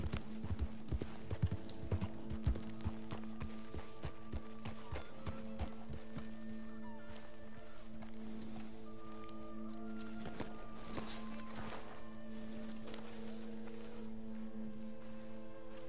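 A horse walking in the video game Red Dead Redemption 2, steady clip-clop of hooves that is brisk and close at first and then settles into softer, sparser steps over a tonal game background.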